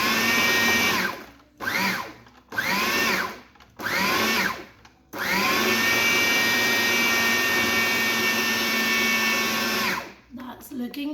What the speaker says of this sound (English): Okay, now we mix it some more.